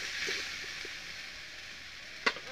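Ginger, garlic and onion frying in a pan for a Bengali bata fish curry hiss with a steady sizzle, and a sharp burst of spitting near the end as water is splashed in.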